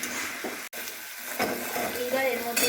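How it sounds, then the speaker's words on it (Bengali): Kalmi greens (water spinach) frying in a pan with ground and whole chilies while being stirred, a steady close sizzle with soft scraping strokes and a brief sharp knock near the start. "এদিকে এই শাকটাকেও কিন্তু আমি একটু নেড়ে চেড়ে দিচ্ছি"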